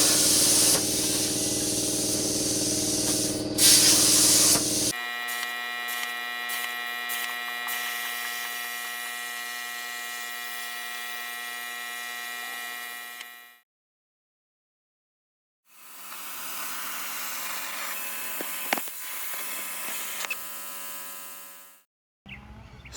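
A hissing, buzzing power cutter slices through 3/16 aluminum sheet for a fuel tank, steady and close with a strong tonal whine, stopping for a silent pause before cutting resumes.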